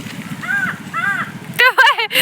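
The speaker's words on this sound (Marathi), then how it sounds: "तुझ्या संग कावळा सुद्धा आहे." A crow caws nearby outdoors: two harsh, separate caws, then a quicker cluster of calls, loud and close.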